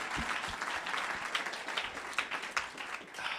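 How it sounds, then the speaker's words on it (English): An audience at the Titans 2024 event breaks into dense, steady applause, many hands clapping together at moderate loudness for a few seconds. "Can we get a round of applause for all those amazing Titans?"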